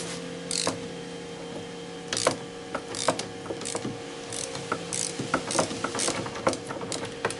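Ratchet wrench loosening the two 14 mm bolts on the fork of a Peugeot Citystar 125 scooter, with a run of close, irregular clicking ratchet strokes and metallic clatters over a steady background hum.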